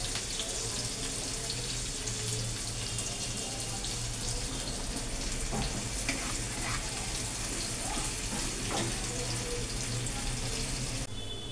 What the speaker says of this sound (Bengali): দু মিনিট লাগবে পেঁয়াজটা একটু সিমেতে নাকি ভাজতে